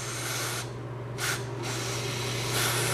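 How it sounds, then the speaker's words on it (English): Brake cleaner blasts from an aerosol can onto a nitro engine, a loud, close hiss that runs steadily with two short breaks over a low, constant hum. "back with the brake cleaner. I'm gonna give that a"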